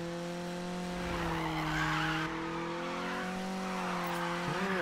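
A Mazda Miata slides through a long skid in the video game Need for Speed (2015). The tires squeal steadily and loud over the engine tone, with the pitch wavering as the car drifts.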